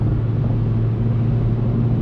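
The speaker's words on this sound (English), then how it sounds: "Oh, but these turbo noises" A Mercedes-AMG four-cylinder turbo engine drones in a steady, loud low rumble, heard close and continuous with no voices.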